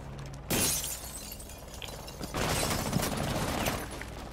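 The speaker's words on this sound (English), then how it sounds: "James, did you shoot out that barricade? The wooden barricade?" A wooden barricade being shot out in Rainbow Six Siege: a sudden splintering, shattering burst followed by a second longer crunching break, loud and close, with no talk.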